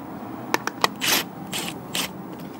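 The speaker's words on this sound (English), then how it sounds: "I just also got my new Milwaukee Max Bite wrenches." A Milwaukee Max Bite ratcheting wrench turning on a lawn thatcher wheel, with a few sharp ratchet clicks followed by three longer rasping ratchet sweeps, close and clear.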